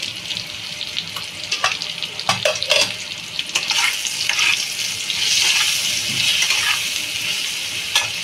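Tengra fish curry cooking in a pan with salt and turmeric added, a soft continuous sizzle with scattered spoon clicks and stirring scrapes, close up and without talk.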